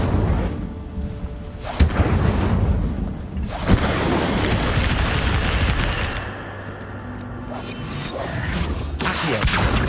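The Incendio fire spell in Hogwarts Legacy goes off as a few sharp booming bursts over a rumbling, roaring rush of flame.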